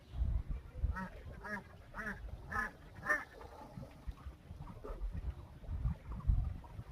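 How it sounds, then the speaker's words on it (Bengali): A duck being chased by two dogs quacks in a quick run of about five rhythmic calls, fairly faint and distant, followed by scattered low outdoor rustling and bumps. "দুটো কুকুর একটা হাঁসের পিছনে লেগে গেছে।"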